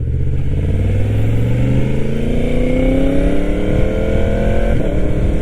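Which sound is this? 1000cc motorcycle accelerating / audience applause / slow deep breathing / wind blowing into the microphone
1000cc motorcycle accelerating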